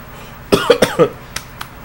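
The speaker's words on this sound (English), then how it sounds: "There was a cough and a laugh at the same time" A few short, harsh coughing bursts in quick succession, fairly close, followed by faint clicks in a quiet room.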